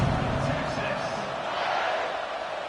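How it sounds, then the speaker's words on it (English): College football stadium crowd buzzing after a score, a dense, steady roar of many voices with a commentator talking over it. "this crowd is buzzing after that last score"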